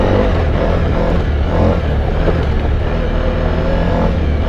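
Suzuki V-Strom 1000 motorcycle engine running off-road over stony ground on Pirelli Scorpion Rally knobbly tyres, a steady smooth low drone held loud and close throughout with slight swells, no talk.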